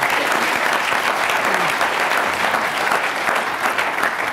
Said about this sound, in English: Ladies and gentlemen, a round of applause for Team Two.